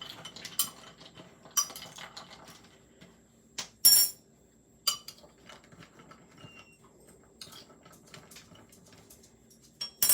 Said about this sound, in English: we wanna make sure to stir in between each time so that it does not burn